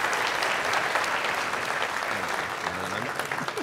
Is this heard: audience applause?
yes